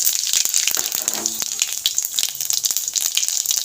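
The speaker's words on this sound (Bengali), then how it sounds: "তেলটা গরম হয়ে গেছে আমি ফোড়ন দিয়ে দেব গোটা সাদা জিরে" Whole white cumin seeds sizzling in hot oil in a pan for a vegetarian taro dish, a bright, crackly hiss with rapid pops, close and continuous, no talking over it.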